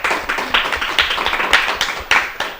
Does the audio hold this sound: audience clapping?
yes